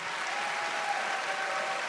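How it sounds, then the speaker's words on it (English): Brief burst of steady audience applause at a hackathon opening ceremony, many hands clapping evenly with no talk. "please join me in a round of applause thanking Jack for his time"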